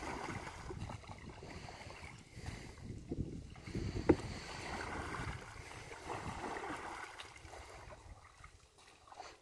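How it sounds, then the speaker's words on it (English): A kayak paddling through water on a camping trip, with soft, faint splashes and gentle trickling over low background noise and one brief sharp knock midway. "This is what we're kayaking through."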